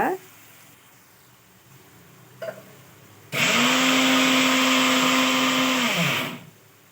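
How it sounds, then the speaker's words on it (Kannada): A mixer grinder grinds roasted gram into powder for Betageri chutney, a loud steady motor whine running about three seconds and then winding down, after quieter kitchen sounds. "ಒಂದು ಸ್ವಲ್ಪ ಹುರಿಗಡಲೆ ಪುಡಿ ಮಾಡ್ಕೋಬೇಕು ಪುಡಿ ಮಾಡಿಡೋಣ ಈಗ"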